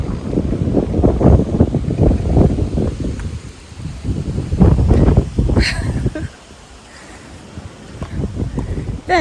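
Strong wind gusts roar and buffet the microphone outdoors in a village during rain, a loud, continuous rush that drops off sharply near the end.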